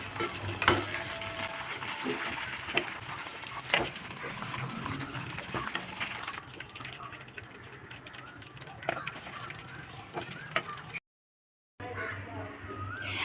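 Chicken 65 frying in plenty of coconut oil with green chillies and curry leaves, a steady close sizzle with occasional stirring scrapes, under a speaking voice, briefly cut to silence near the end.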